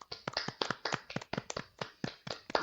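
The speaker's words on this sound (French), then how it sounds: "je vous propose qu'on applaudisse pendant 5 secondes" A small group claps hands together in a loose, fairly regular rhythm of about a dozen sharp, distinct claps, close and clear with no talk over them.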